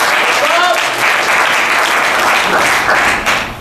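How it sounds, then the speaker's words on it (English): Booth audience applauding a team member at a leadership-training company event, a dense, loud, steady wash of clapping with a voice carrying faintly through it. "So give Rob a nice round of applause"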